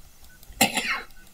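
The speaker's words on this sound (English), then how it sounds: "Do excuse my coughing. I've had a bit of a coughing fit all day." A single sharp cough bursts out midway, loud and close, from someone with a lingering coughing fit, followed by a brief raspy tail; the rest is near silence.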